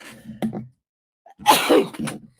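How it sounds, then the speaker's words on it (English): A single sneeze bursts out after a short pause, preceded by a quick intake of breath and followed by a brief exhale. "Hang on, I'm going to sneeze."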